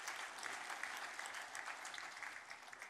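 Church congregation clapping together in steady, dense applause for about three seconds, soft and somewhat distant, with no voices standing out.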